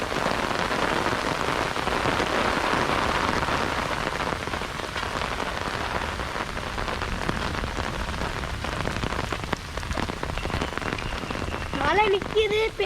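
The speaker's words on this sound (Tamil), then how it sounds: "மழை நிற்கிது, பெய்யுது." Rain falls steadily on the ground, a continuous hiss of drops that stays even throughout, with a brief voice rising near the end.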